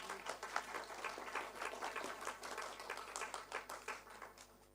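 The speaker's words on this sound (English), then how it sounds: "A big round of applause to them, please." A steady round of applause from a crowd at a book launch, moderately distant and fairly soft, with many hands clapping continuously.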